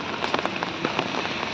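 Rain near Alappuzha railway station falls steadily on nearby surfaces, giving a close, dense patter with scattered sharper drop hits throughout.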